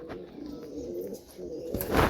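A Madrasi or Giribaz pigeon in a loft coos close by, a short soft rolling call with a slight rise at the end, heard alone.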